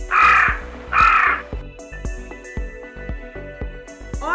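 A crow caws twice, loud and harsh, in an animated Hindi children's story, followed by a run of plucked, rhythmic background music notes.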